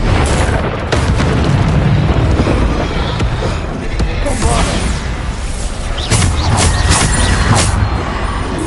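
Bombarda explosion spells burst repeatedly in the Hogwarts Legacy game, a dense run of loud, boomy blasts with crackling debris layered over a constant rumbling battle din.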